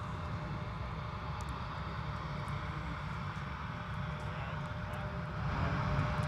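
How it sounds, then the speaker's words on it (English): An airliner taxis on runway 22 at Minneapolis–St. Paul airport toward its gate at Terminal 2, a steady low engine roar with a broadband rumble that stays distant and constant and swells slightly at the end. "So here they are taxiing on runway 22, navigating to their assigned gate space at Terminal 2."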